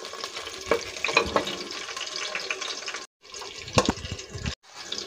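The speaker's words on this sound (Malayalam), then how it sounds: "ഇഞ്ചി വെളുത്തുള്ളി ചതച്ചത് ഇട്ട് കൊടുക്കാം. നന്നായിട്ട് ഇളക്കി കൊടുക്കാം." Crushed ginger and garlic are stirred with onions in a pan while making ghee rice, giving close scraping strokes over a steady sizzle, with two brief silent breaks.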